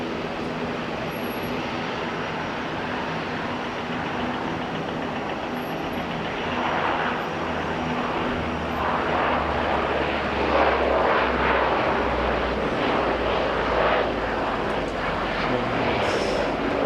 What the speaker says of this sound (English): Second flight in from Gisborne this morning.